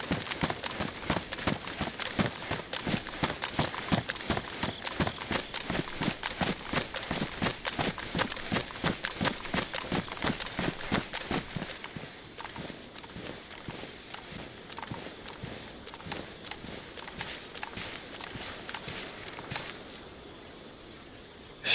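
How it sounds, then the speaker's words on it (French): Footsteps in the survival video game DayZ beat steadily and quickly for about twelve seconds, a clear run of regular close thuds, then continue softer and more spaced for several more seconds before stopping, with no talking. "on aurait dit qu'il y avait eu des bruits de pas dans la maison"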